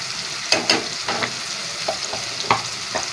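Pumpkin and chana dal cooking in a pan as turmeric is stirred in, with a soft continuous sizzle under several quick scraping spoon strokes, close by and without speech.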